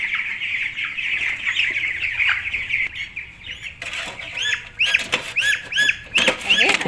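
Ducks being caught and handled for weighing on a farm give agitated calls and bursts of rustling and flapping, growing busier and more frequent toward the end.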